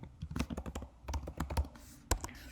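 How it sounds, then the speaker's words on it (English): Quick, uneven key presses clatter on a computer keyboard as an ID is typed in, crisp and close, with a brief pause midway and one sharper stroke near the end. "You can type in the ID"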